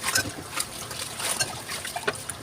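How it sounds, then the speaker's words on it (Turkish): Water runs and splashes continuously from a tap nearby, with small irregular drips and gurgles throughout. "Suyu açtım."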